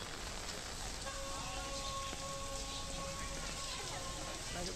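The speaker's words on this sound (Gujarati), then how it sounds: "મોડાસામાં મુશળધાર વરસાદ વરસી રહ્યો છે" Torrential rain in Modasa, Gujarat, hissing steadily and densely on surfaces, with no pauses and a faint tonal hum running underneath.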